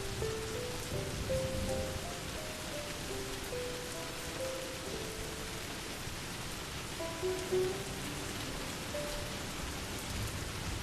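Steady rain falling on the ground, a dense even hiss of drops throughout with a faint melody drifting underneath, no voices.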